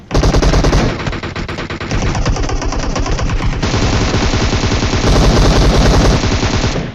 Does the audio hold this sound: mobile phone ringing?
no